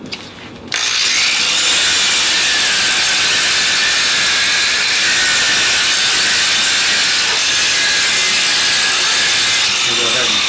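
A variable speed angle grinder dry polishing stone with an 800 grit pad, starting after a brief quiet moment and then running loud and steady as a continuous close hiss and whine.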